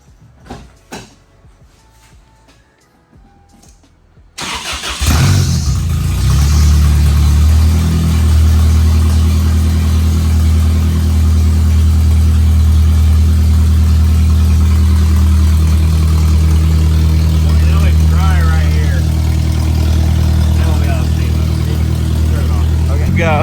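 A Toyota 2.4L car engine turns over and fires, then settles into a loud, steady idle that drones on; faint voices and small noises come before it starts.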